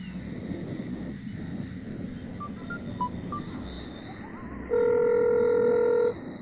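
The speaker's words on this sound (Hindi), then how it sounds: "रुक मैं उसे फोन करता हूँ।" Telephone keypad being dialed: a few short, evenly spaced beeps followed by a longer steady electronic tone, heard over a faint background hum.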